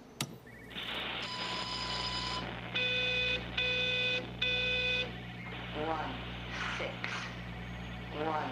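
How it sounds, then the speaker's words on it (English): A phone rings in the video game Everybody's Gone to the Rapture: steady electronic ringing tones in repeated bursts over a low ambient hum, with a couple of fainter chirps after. "There's a phone or something ringing here."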